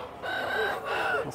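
Capoeira chickens cluck and squawk in two short bursts at a busy pig and poultry market in Campina Grande, heard fairly close against faint crowd background.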